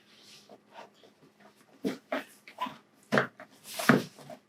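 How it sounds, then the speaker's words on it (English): A pet dog barks and whimpers indoors, a handful of short, separate yelps and barks growing a little louder toward the end, moderately quiet. "our dog is barking"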